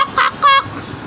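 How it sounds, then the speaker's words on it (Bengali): A chicken gives two short, loud clucking squawks in quick succession close by, then falls quiet over a faint background. "যে মুরগিটা কান্না করছে"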